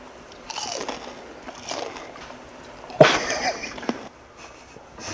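Someone chews raw sea hare close up: soft wet biting and crunching with one sharp burst in the middle, fairly quiet against light background noise.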